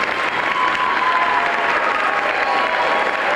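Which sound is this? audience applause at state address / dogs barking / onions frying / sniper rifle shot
audience applause at state address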